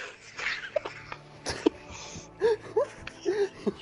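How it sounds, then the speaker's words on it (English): A dog pants and breathes heavily close by, with irregular wheezy huffs and snorting breaths in uneven bursts. "I mean, he's breathing heavily."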